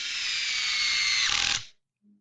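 A power tool whines loudly and steadily for about a second and a half, with a ratcheting chatter near the end, before cutting off abruptly; a brief low hum follows after a moment of silence.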